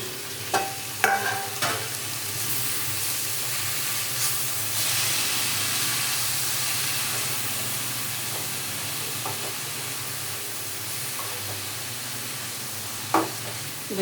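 Ponnanganni greens fry in a pan and sizzle with a steady hiss. They are stirred now and then, giving a few clinks and scrapes of a spoon against the pan, close and moderately loud.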